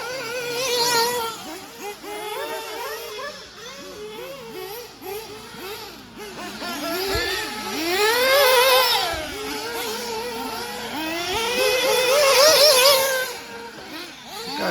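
RC race cars ripping around a track during a race, their high-pitched motors whining and rising and falling in pitch as they pass, with overlapping buzzing from several cars near and far.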